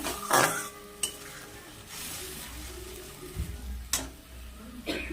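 Fish curry with mustard-poppy paste being sautéed in a pot, heard as intermittent clinks and scrapes of a utensil against metal over a soft bubbling background, fairly close and moderate in level.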